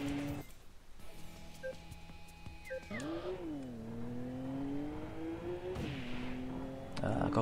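A Toyota Supra engine in the racing video game Import Tuner Challenge revs steadily, its pitch sliding up and down in long sweeps. A few brief electronic beeps sound near the start.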